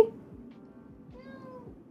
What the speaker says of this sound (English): When the camera's not on her, she meows.